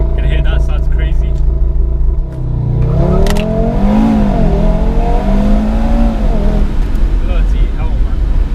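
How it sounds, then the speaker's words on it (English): An Audi RS3 starts from a loud idle, then launches hard, its revs climbing through several rising sweeps, with someone talking over the engine. "So we're just going to attempt the launch now."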